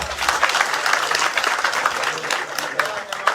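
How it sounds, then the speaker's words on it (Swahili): A crowd claps for Ngethe at a political campaign gathering, brisk uneven applause with some voices mixed in, lasting the whole moment. "Tupigie Ngethe makofi"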